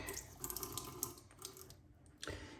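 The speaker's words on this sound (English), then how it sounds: "Wet the face for pass number 3." Tap water runs and splashes at a sink as a face is wetted between shaving passes, a steady close wash with brief drips and a short lull near the end.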